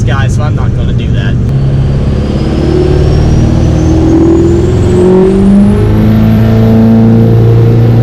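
An 800 HP 2005 Ford F-250 with a 6.3L Powerstroke diesel accelerating: a loud, close, deep engine drone building steadily with a rising turbo whistle, continuous for several seconds.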